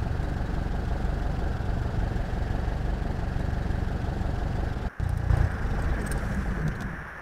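Simulated engine of a Falke SF-25 C motor glider in the Prepar3D flight simulator drones steadily and loudly throughout, dipping in one brief dropout near the end before picking back up, with no voices over it.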